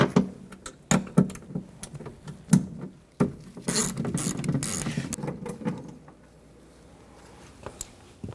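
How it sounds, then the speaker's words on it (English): Tools working on a 2009-2017 Chevy Traverse door while a bolt is taken out with a 10mm socket: sharp metallic clicks and knocks at irregular intervals, then a longer scraping, rattling stretch, close and fairly quiet, with no talk. "Take that bolt out there. Use a 10mm socket."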